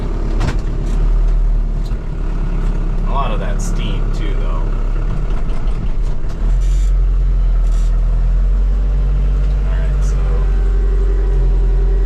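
A tractor engine runs steadily nearby during ash cleanout of an outdoor wood boiler, a loud low idling rumble that shifts pitch partway through, with someone talking over it.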